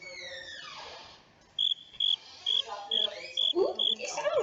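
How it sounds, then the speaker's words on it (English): Crickets chirping in a short sequence of about seven evenly spaced bright, clear chirps, moderately loud, following softer sweeping background sounds and ending with a brief jumble of noise. "Ooh, these sound like crickets."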